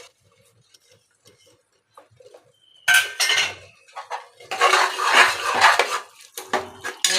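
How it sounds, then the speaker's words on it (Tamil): Mint and coriander leaves being stirred into kuska in a metal pot: a quiet start with faint clinks, then loud repeated scraping and clattering of a spoon against the pot, in bursts with short pauses. "இந்த புதினா மல்லியை போட்டு கிண்டுங்க"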